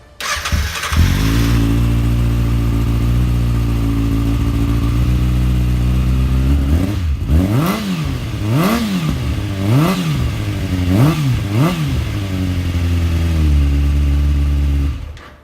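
A 2013 Kawasaki ZX6R 636 motorcycle fitted with a Yoshimura carbon exhaust starts up, idles loudly and close, then gets several sharp throttle blips that rise and fall before settling back to a steady idle.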